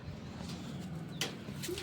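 Pigeons in a loft coo softly in a low steady murmur close by, with a brief brighter call partway through and faint background noise.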